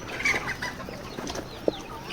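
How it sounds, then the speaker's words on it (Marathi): Poultry hens and chicks feeding on azolla cluck softly and intermittently, with a brief sharper call near the end, fairly faint against background ambience, with no talk. "पूर्ण कोंबड्या खाण्यासाठी आलेल्या आहेत"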